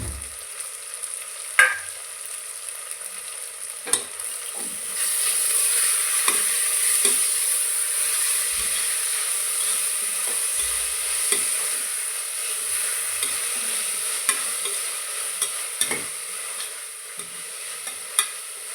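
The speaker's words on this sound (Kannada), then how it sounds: "ಇವಾಗ ಸಬ್ಬೆ ಸೊಪ್ಪನ್ನು ಹಾಕೋಣ" Dill leaves stirred and frying in a pan with a steady hiss, broken by scraping strokes of a spoon and scattered clinks throughout, growing louder as the leaves go in.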